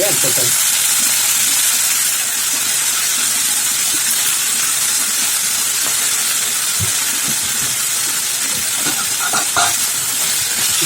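Garlic sautéing in a pan in a Tamil home kitchen: a steady, fairly loud sizzling hiss runs throughout, with a few stirring clicks near the end and a faint voice in the background.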